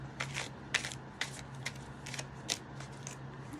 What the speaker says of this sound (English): That's so hard to shuffle